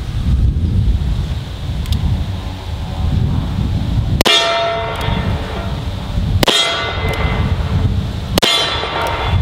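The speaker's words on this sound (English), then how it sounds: "We're shooting a mix of 38 Special and 357 in it today." A New Model Ruger Blackhawk .357 Magnum revolver with a 4 5/8 inch barrel fires a mix of .38 Special and .357 rounds outdoors in wind. Three sharp loud reports come a couple of seconds apart, each ringing briefly over steady wind rumble.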